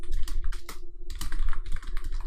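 Close, rapid keystrokes on a computer keyboard come in quick uneven bursts with short pauses, and no talking is heard.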